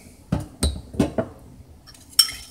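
Whiskey stirred into a spice mix, a utensil clinking against a bowl in a few sharp, separate taps with a brief scrape at the end.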